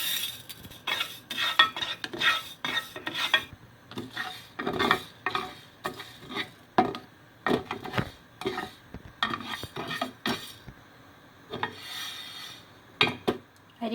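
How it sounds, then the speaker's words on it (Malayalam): Rice grains roasting in a pan for pumpkin halwa, heard as a steady close scraping and stirring with irregular scratchy strokes and light rattles of utensil on metal, with no talking. "ഇനി നമുക്ക് മത്തങ്ങയിലേക്ക് ചേർക്കാനുള്ള അരിമണി ഒന്ന് വറുത്തെടുക്കാം"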